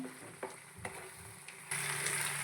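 Mutton coated in masala paste fries in a pan, a soft steady sizzle with a few light stirring taps that swells louder near the end.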